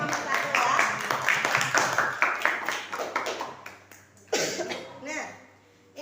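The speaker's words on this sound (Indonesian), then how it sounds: "Silakan beri tepuk tangan untuk kelompok nomor 1 ya." Students in a classroom clap for a student group in a short burst of scattered claps that quickly thin out, followed by a cough and a few quiet taps.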